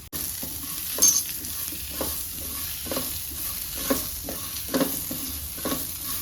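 Long-cut sliced onions fry in a pan for a Konkani-style chicken curry, a steady hissing sizzle with periodic scraping stirs and clinks of a spoon against the pan, close and without talking.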